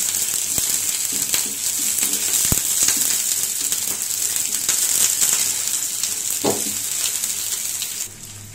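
Chopped onions fry in about two tablespoons of hot mustard oil with a continuous broad sizzle, broken by occasional clicks and a scrape of stirring, with no one talking.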